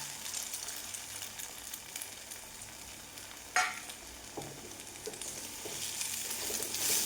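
Two eggs cracked into a pan with sliced okra sizzle and fry steadily, with a sharper burst as they hit the hot oil and occasional stirring scrapes; no one speaks.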